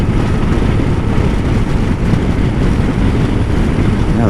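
A 2024 Suzuki GSX-S1000GX motorcycle pulls hard in fifth gear from around 3,500 RPM, its engine roaring loud and continuous over wind rush.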